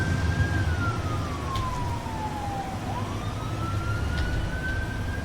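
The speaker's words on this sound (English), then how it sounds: "So there's a fire engine." A fire engine siren in an emergency services video game wails steadily, its pitch sliding down slowly and then back up over a constant rumble of engine and road noise, loud and continuous throughout.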